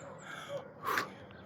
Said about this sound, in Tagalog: Hingal, may ubo kasi.